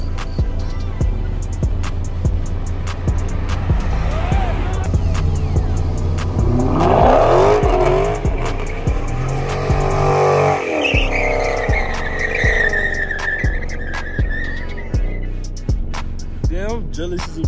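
Dodge Scat Pack cars cruise through a neighborhood, with loud, close engines revving hard and tires squealing in a long skid, along with rumbling exhausts, while people shout and talk over the noise.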